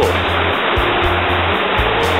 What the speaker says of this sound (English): Over here, there's a waterfall